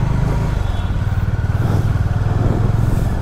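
A motorcycle carrying two riders on a road trip rumbles steadily underneath, its engine throbbing in an even, continuous pulse with no talk.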